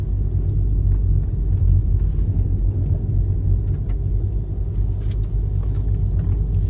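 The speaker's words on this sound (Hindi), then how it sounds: "गाड़ी की जान निकल जाती है किसी किसी जगह, तो सीधा पहले गियर में ही लानी पड़ जाती है।" A Tata Altroz caravan car straining in low gear up a steep mountain road near Drass, its engine a loud, heavy, continuous low rumble filling the whole stretch with no talk.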